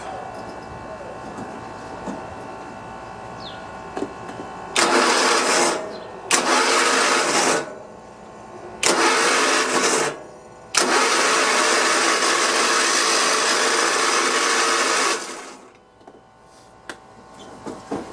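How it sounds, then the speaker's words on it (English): A Cub Cadet i1050 zero-turn mower, left outside for years, cranks roughly in several loud bursts of its starter with short gaps between them, followed by one longer sustained crank that cuts off. "it sounds rough, but I think that's the starter"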